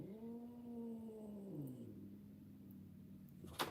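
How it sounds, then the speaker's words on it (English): A house cat growls in a low, drawn-out tone that drops slightly in pitch, faint and close, ending with a short rustle. "He's straight up growling at me."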